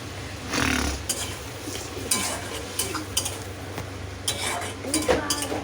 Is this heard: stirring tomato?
yes